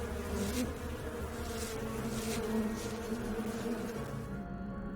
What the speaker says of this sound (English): Stop buzzing!